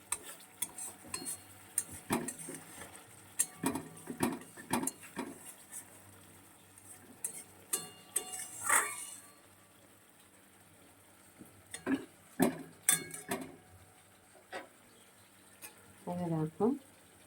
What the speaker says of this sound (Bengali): দেখো এই যে মশলা আর তেল একই সাথে রয়েছে না, যখন আলাদা হয়ে যাবে তখনই নামাতে হবে।